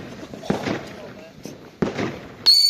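Scattered New Year's Eve firecrackers and fireworks pop as a few sharp bursts, followed by a bright whistle at the end, while people talk nearby.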